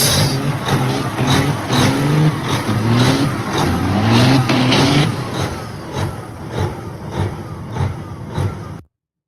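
A 4,000 horsepower two-axle super drag truck revs hard nearby, the engine pitch sweeping up repeatedly in loud rising bursts, then settling into rougher rumbling before stopping abruptly.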